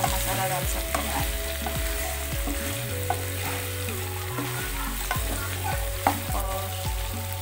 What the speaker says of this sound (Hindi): देखिए गाइस कितना अच्छे से फ्राई हो गया।